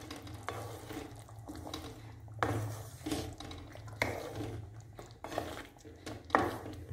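A spoon stirs thick chutney in a pan on a low stove flame, giving soft irregular scrapes and knocks against the pan over a faint sizzle, quiet and close.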